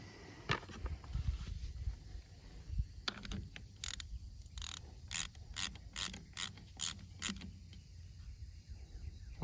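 A ratchet snugs a drain plug back into a Kubota U35-4 excavator final drive, a quick run of close, crisp clicks in an even rhythm after some fumbling metallic handling.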